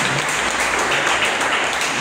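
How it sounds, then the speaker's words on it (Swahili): A meeting audience claps together in a thick, steady burst of applause, loud and close, with no pauses across its two seconds. "Bado tumpigie makofi mazuri."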